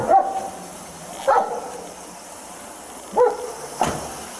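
A dog barks in a few spaced bursts, moderately close, indoors, alone without talk over it.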